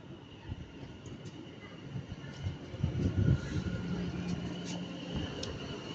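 London Northwestern Railway Class 730 electric train at Stafford station, a continuous rolling rumble with a faint whine that swells in the middle as it passes nearby, with no talk.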